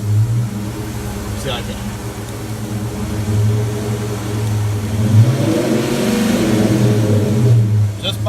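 A Dodge Charger engine runs close by as the gas pedal is held down by the motorized seat, the revs rising and holding in a steady drone while someone speaks briefly over it.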